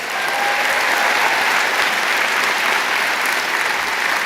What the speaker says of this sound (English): I notice a certain joy in that clap